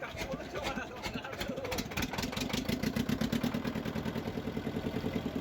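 A motorboat on the Matla river starts up and settles into a steady, rhythmic mid-pitched putter that grows louder and more regular. It is heard up close with no talk.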